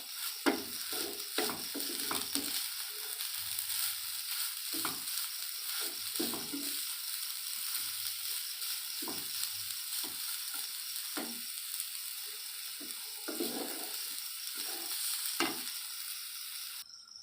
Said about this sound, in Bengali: নারকেল কুড়ো আছে আমি চিনি দিয়ে লাল করে ভেজে নেবো একদম